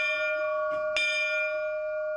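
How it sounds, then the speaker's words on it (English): A chapel bell donated by Pope Francis, at a Diocese of Rome family home for people living with AIDS, rings a single loud, clear strike with a long sustained metallic hum that rings on throughout, with no one speaking. "Pope Francis even donated the bell used in services."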